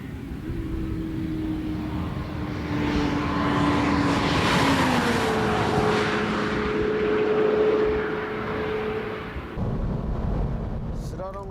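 A BMW M3 at full throttle on a test course, with a steady engine drone whose pitch holds and then shifts as it passes, under strong wind noise. A voice speaks over it at moderate distance.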